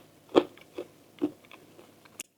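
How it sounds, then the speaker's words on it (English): Bites into a crispy nut-free keto cracker: three sharp, close crunches spaced about a second apart, each followed by brief softer chewing crackle, with no talking. "The crunch is wonderful."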